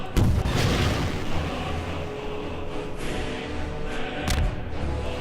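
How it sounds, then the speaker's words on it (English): Rocket blasts from a weapon in Garry's Mod, fired at a dragon: heavy booming impacts with a loud thump at the start and another burst near the end over a sustained rumbling low roar, no talk. "Even these rockets don't take him out quick enough."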